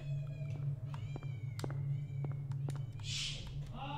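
A cat meows several times in a row, with thin, wavering cries over a steady low hum and a brief hiss near the end, close by and fairly quiet.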